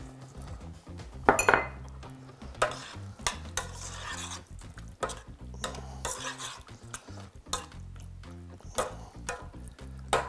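A spoon scrapes and clinks against a pot while stirring tomato cream soup with vegetables, irregular knocks over a soft background sizzle.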